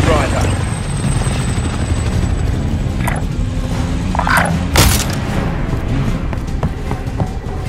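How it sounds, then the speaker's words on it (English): An enemy attack helicopter in Call of Duty Plunder rumbles steadily throughout with a low rotor drone, joined by a sharp boom or crack near the middle amid other game effects. "Be advised, enemy attack chopper incoming."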